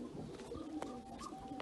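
Turkish play pigeons at their coop give soft, low, throaty coos in a short quiet stretch, faint and close, with a few light rustles.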